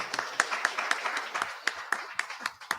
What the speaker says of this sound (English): Let's give them another round of applause for Gwen-Aries tonight.